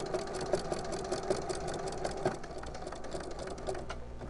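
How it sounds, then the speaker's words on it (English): A sewing machine runs in short, rhythmic stitching bursts while sewing a Christmas stocking, close and moderately quiet, with a faint motor hum under the stitches. "needle down, pivot, and continue sewing."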